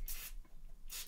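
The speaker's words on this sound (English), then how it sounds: "It's a sort of foam formula, so you just spray it onto a cloth and get a bit on there." A foam anti-static cleaner sprayed onto a cloth during cleanup of a cheap film camera: two short hissing spray bursts, one at the start and one at the end, with a quiet pause between, close and fairly soft.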